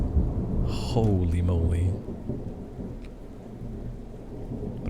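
Loud thunder rolls during a thunderstorm with rain outside, a heavy rumble in the first two seconds easing into steady rain wash, while someone speaks over it during a For Honor game session.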